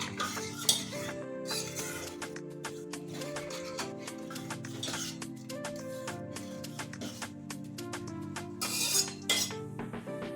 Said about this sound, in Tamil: இது நல்லா மிக்ஸ் பண்ணிக்கோங்க, எல்லாம் ஒன்று சேர்ற மாதிரி.